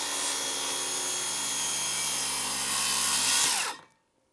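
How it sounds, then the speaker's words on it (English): A hand saw rasps steadily through two clamped pieces of wood in a fast, continuous back-and-forth grind that stops abruptly near the end, close and without speech. "the saw is cutting both pieces of wood"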